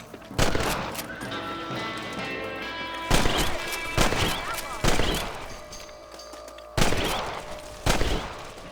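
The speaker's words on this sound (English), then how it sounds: "Get your rifle out. It's about time these little thieves met their maker. Kill those little vermin." Rifle gunshots fired at rabbits in the Red Dead Redemption video game, about six loud sharp cracks spaced irregularly over a steady background of in-game ambience and music.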